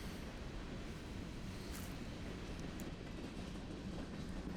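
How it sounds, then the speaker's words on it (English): Two westbound trains roll past in West Chicago, making a steady, distant, low rumble with faint clatter that stays even throughout. "there are 2 westbound trains, one moving slightly faster than the other"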